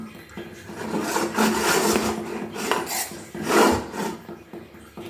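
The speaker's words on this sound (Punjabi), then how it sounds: "ਹੁਣ ਇਹਦੇ ਪੀਸ ਕੱਟ ਲਈਏ" A knife cuts homemade paneer into pieces on a kitchen surface, making repeated close scraping, rasping strokes with light knocks, steady and fairly loud, with no talking.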